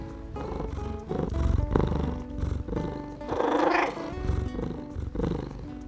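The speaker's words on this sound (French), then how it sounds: "Lorsqu'il est content, il ronronne." A contented cat purrs close up, a continuous low rumbling with rising and falling pulses of breath, fairly soft and without any talking.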